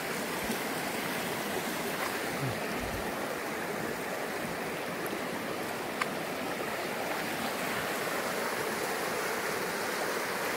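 The Karli river, which rises in the Sahyadri mountains, flows beneath an old iron bridge near Shivapur in the Konkan, a steady, soft rushing of water heard from a distance, with no one speaking.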